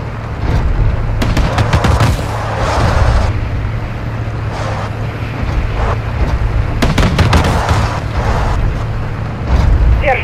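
Gunfire in Call of Duty: Modern Warfare 2 (2022), loud bursts of automatic shots and sharp cracks recurring across a rumbling battle soundscape, with engine-like drone underneath.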